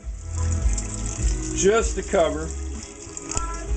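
Water pours into a pot of black-eyed peas in a home kitchen, a soft gushing and rattling at moderate distance with someone talking over it.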